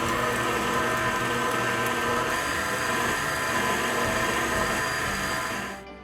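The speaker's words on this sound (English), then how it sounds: "I'm going to blend all the ingredients together." An electric blender mixes malva pudding batter, a loud continuous whir holding steady for several seconds before winding down at the end.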